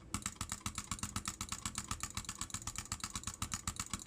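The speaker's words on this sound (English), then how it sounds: "you just want to like butterfly click and move your mouse while you do it" Rapid butterfly clicking on a computer mouse, a fast, even stream of sharp clicks at roughly twenty per second, close and steady for several seconds with no voices.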